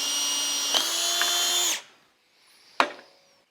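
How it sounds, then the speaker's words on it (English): A power drill whirs steadily for nearly two seconds while drilling a hole to fit a GoPro mount, then stops; a sharp knock follows after a brief pause. "Let's go ahead and get busy drilling this and mounting it"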